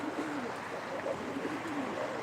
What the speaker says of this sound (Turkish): bak hazır kuşlar aldım bilginiz olsun bugün de